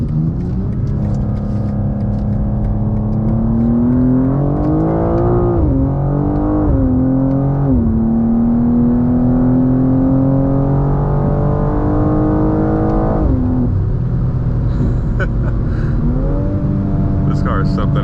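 A 2024 BMW M2 engine revs and pulls through a corner, its tone climbing and dipping with gear changes, loud and close from inside the cabin, with a voice talking over it at times.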